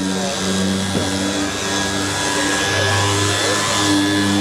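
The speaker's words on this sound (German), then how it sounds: "So this is a 5mm DA sander." A 5mm dual-action orbital sander whirs steadily and loudly, close by, as it sands car paint in one continuous run.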